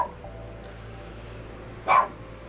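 A miniature pinscher or Doberman dog gives a single short bark near the end, close and fairly loud, after a quiet stretch with a low steady hum indoors.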